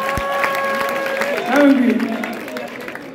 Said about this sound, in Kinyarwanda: Gaga mumukomera amashyi cyane